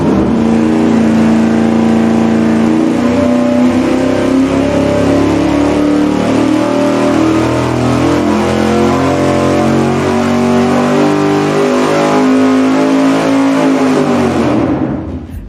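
Carbureted V8 engine on a dyno with an open carburetor spacer, revving in one loud, continuous pull as the roar climbs steadily and then cuts off abruptly at the end, no voices.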